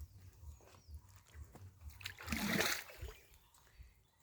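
Bare feet splash in a pond, a soft lapping and one louder splash of water amid quiet outdoor ambience, with a voice speaking nearby.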